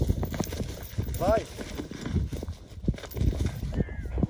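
Horse hooves clip-clop in an uneven rhythm during a horse-taming session, close and fairly quiet, with a voice calling out briefly over the steps.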